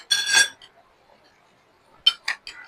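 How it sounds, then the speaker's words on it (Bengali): Ice cubes clink into a glass of ripe mango juice, a bright cluster of chinks at the start followed by two or three more sharp clinks after a quiet gap. "ঠান্ডা না হলে জুসটা ভালো লাগবে না, তাই আমি সব আইসটা দিয়ে দিচ্ছি।"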